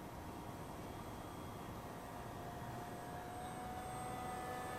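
A steady engine drone with a thin whining tone holds throughout, loud and unchanging, like an ICON A5 light amphibious aircraft heard from inside.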